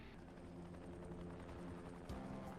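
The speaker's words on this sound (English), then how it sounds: "Oh, and the GRE helicopter shows up right now." A GRE helicopter arriving in the video game Dying Light, a faint steady rotor drone with low thrumming throughout.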